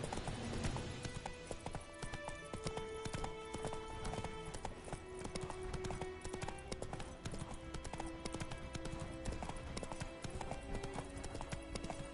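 Roach, the horse in The Witcher 3, gallops with a rapid, steady clip-clop of hooves that carries loud and close from start to end, with game sound layered beneath the hoofbeats.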